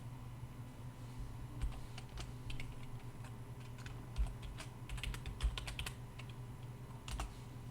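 A password being typed on a computer keyboard: quiet, close key clicks in short irregular bursts over a faint steady room hum, with no voices.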